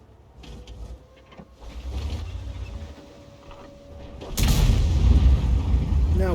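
In a World of Tanks-style tank game, an ISU-152 gun fires unexpectedly, a heavy booming blast that bursts in suddenly after quieter engine rumble and game ambience, followed by a sustained loud rumbling tail.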